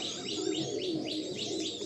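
Pigeons, including black birds, perched together at a loft keep up steady low cooing mixed with bird chirps, a busy continuous chorus at close range with no talking.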